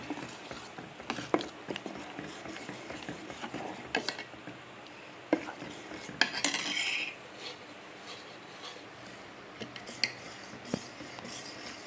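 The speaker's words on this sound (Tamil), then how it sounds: "வெல்லத்தை போட்டு நல்லா கிளறினே இருக்கணும்." Jaggery being stirred in a boiling pot while making urad dal milk, soft irregular scraping and clinking of a utensil against the pot, fairly quiet with a busier burst midway, no speech.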